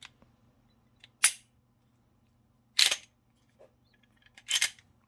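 Mossberg MC2c pistol trigger being worked, giving three sharp, close mechanical clicks spaced a second or more apart against near silence, with a faint tap in between.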